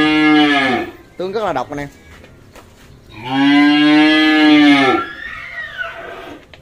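Cattle at a Vietnamese livestock trader's, a grey-eyed, grey-muzzled cow heading a newly arrived lot, give two loud, drawn-out moos close by, with someone speaking briefly between the calls.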